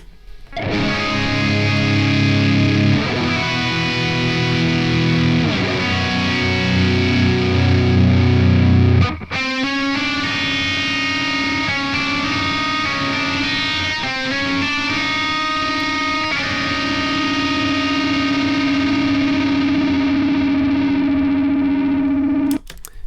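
Distorted electric guitar through an amp simulator, loud chugging chords then a sustained riff with sharp stops, close and dense, no voices.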